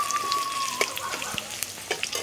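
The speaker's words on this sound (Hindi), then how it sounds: "दो तेज पत्ता है, डाल देते हैं तड़का में।" Two bay leaves, with green chilli and a pinch of cumin, drop into hot tempering oil for a matar paneer dish, giving a crackling sizzle with scattered pops and a brief whine at the start.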